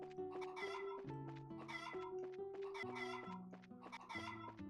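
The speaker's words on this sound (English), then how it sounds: "Are these chicken?" Chickens cluck in the video game Trails in the Sky, a run of repeated bursts of clucking over steady tonal game sounds, with no talking.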